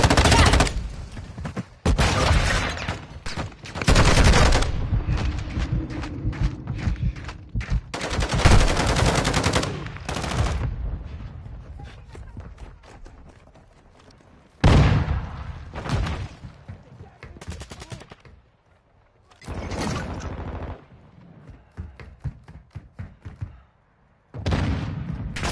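Rapid bursts of automatic gunfire and single shots in a military shooter video game, loud and repeated in clusters with brief pauses, some voice chatter mixed in.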